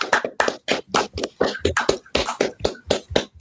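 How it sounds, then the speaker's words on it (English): A small group claps fast and unevenly to congratulate someone on a new teaching job, a close, loud string of quick hand claps with brief gaps between bursts. "Thank you for the clap. I really appreciate the clap."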